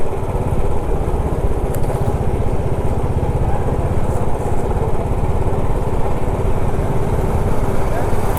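A motorcycle engine drones steadily and loud while riding on a long bike trip, a constant mid-pitched hum with road and wind noise and no pauses.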